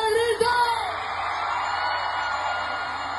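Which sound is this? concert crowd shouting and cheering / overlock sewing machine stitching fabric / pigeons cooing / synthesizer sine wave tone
concert crowd shouting and cheering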